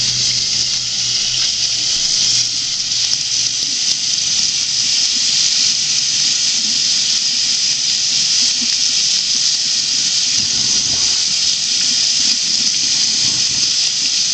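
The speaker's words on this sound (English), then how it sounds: "So you have to go over to the sink and wash this off." A kitchen tap runs hard into a sink while soil is washed from between leek leaves, a loud continuous rushing hiss of water with faint splashing beneath it.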